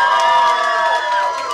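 A concert crowd at a show in Przemyśl cheers and shouts loudly, with overlapping high voices forming sustained, ringing tones for a short burst and faint claps beneath.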